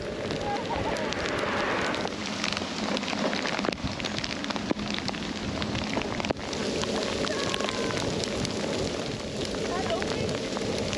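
Big raindrops fall steadily during a bikepacking trip in Italy, giving a close, dense patter on surfaces with a few sharper single drops. People talk faintly under the rain.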